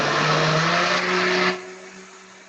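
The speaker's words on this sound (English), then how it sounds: "Then I'll be starting my blender again" An electric blender runs loud and steady, blending green banana porridge thickened with cornmeal, then cuts off partway through as the motor whine drops away to a faint tail.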